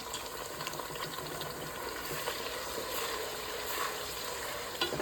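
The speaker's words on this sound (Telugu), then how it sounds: "ఇదైతే బాగా వేగాలండి." Tomato paste frying in oil in a pan for a blue crab curry, a steady close sizzle with stirring scrapes running throughout and no voices.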